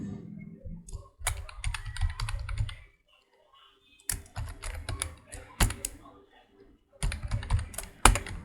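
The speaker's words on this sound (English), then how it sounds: "Then we type a message as console.log" Bursts of computer keyboard typing, busy clicking runs separated by short pauses, close and fairly loud, entering code for a chat web app built with Angular and Node.js.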